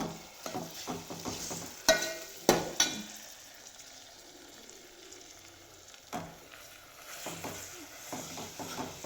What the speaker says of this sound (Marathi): लाल होईपर्यंत तळू बघू शकतो कांदा तळून घेतला कोथिंबीर तळून घेतली